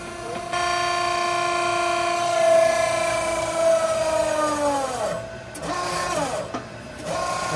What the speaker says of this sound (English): So when they press this down, it gets way down there and then it raises back up.